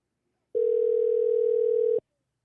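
A single steady telephone ringback tone sounds while a call is placed, one continuous electronic beep lasting over a second, clear and alone in quiet.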